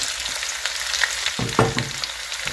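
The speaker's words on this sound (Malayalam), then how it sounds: "ഇതിനകത്ത് കിടന്ന് ഒനിയൻ ഇട്ട് കൊടുക്കുന്നു. ഒനിയൻ ആഡ് ചെയ്തു." Chopped onion sizzles in hot oil in a pan, added after ginger and garlic, with a steady close crackle and the soft scrape of stirring and no voices.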